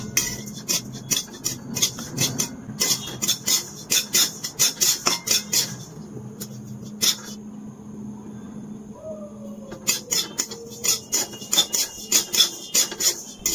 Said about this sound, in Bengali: গ্যাসের ফ্লেমটা লোতে রেখে তিলগুলো ভেজে নিচ্ছি।